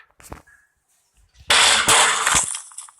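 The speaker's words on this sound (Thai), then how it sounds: "ระเบิดไปซะ" A loud, close explosion in the Minecraft video game, made while blowing up a Sky Block island. A burst of noise lasts about a second and trails off after a few short clicks.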